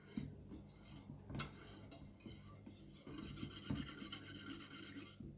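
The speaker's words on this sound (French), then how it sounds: "je vais mélanger" Lemon and palmarosa dish soap mixture being stirred in a container, a steady scraping, rubbing sound with a few louder knocks of the utensil against the sides, close and continuous without talk.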